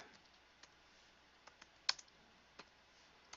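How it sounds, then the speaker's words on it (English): Scattered clicks of typing on a computer keyboard, a few sparse keystrokes with one sharper tap, quiet and close in an otherwise still room. "I'm just typing in don't like"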